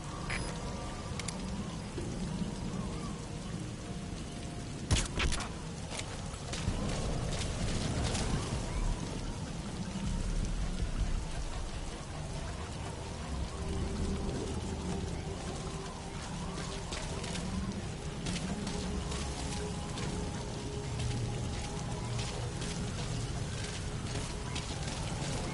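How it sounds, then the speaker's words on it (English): Steady rainfall in the shooter Wolfenstein: The New Order, a constant soft hiss of drops with scattered crackling patter and a brief thump partway through, heard at low level. "The sound of rainfall should help to mask your footsteps."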